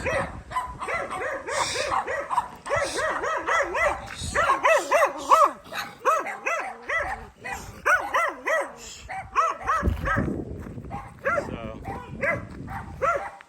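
Several dogs bark repeatedly and excitedly close by, a continuous chorus of yaps and woofs with some whining mixed in.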